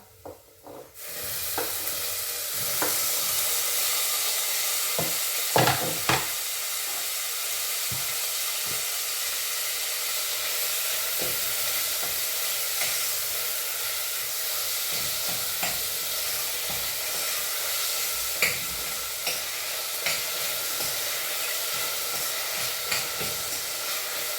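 Chopped tomatoes hit a hot pan and break into a loud, continuous sizzling hiss that holds steady throughout, with faint stirring clicks now and then and no talk.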